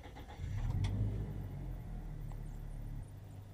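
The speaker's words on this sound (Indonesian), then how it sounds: "Kita hidupkan dulu mesinnya." A 2013 Toyota Kijang Innova with a petrol engine and automatic transmission starts up, with a short starter crank followed by a steady, low engine idle heard close by.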